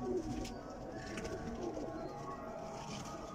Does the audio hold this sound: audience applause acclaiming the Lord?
no